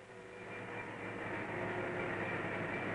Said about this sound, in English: Now the Chicago freight can follow the fast passenger train on the same track.